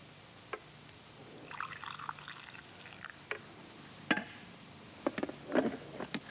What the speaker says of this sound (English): Pour a cup